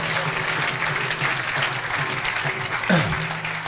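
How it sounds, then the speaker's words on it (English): Steady round of applause from a crowd at a temple anniversary festival, continuous dense clapping that fills the space for several seconds, with a brief voice near the end. "Let's have a round of applause for him."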